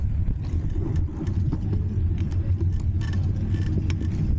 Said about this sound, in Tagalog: Oh, may sasakyan.